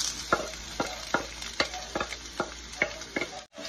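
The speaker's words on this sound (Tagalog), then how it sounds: "Mag-saute na tayo. Maglagay lang tayo ng oil. Lagyan na natin yung onion garlic." Onion and garlic sauté in oil for chicken chopsuey, a soft steady sizzle punctuated by regular scraping stirs of a utensil in the pan, close and fairly quiet, with no voices.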